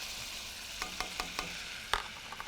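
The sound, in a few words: butter and flour roux sizzling and stirred in a pan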